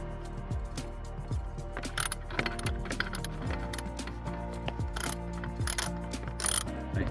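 A ratchet loosens bolts on a 2009 Volvo V70 D4204T engine, its rapid clicking pawl sounding in repeated close strokes with short pauses between swings.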